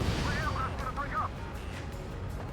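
Incoming missile blast in the flight combat game Ace Combat 7, heard as a sustained low rumbling roar with a rolling boom, mixed under game radio chatter and a voice talking.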